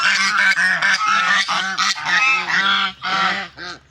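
A flock of domestic geese honks loudly and continuously, overlapping calls close by with brief pauses near the end, no voices.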